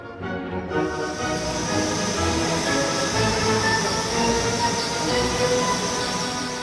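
A North York Moors Railway train rumbles past close by, a dense steady roar of wheels and rails with thin squealing tones running throughout.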